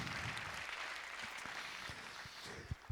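Church congregation applauding for Jesus during a Rosh Hashanah service, a soft distant patter of clapping, fairly quiet and even, with a few louder close claps near the end.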